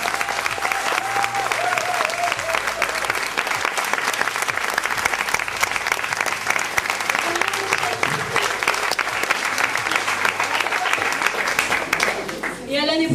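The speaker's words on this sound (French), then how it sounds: "je voudrais un énorme applaudissement" Sustained, dense applause from an audience at a school charity event for children, loud and steady throughout with a few voices and cheers mixed in, fading slightly at the very end.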